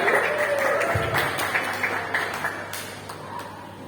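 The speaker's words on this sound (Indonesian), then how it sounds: "dengan tepuk tangan yang meriah" Lively applause from an audience at an event in Temanggung, a dense, steady wash of clapping that stays fairly loud throughout and tapers slightly toward the end, with faint voices mixed in.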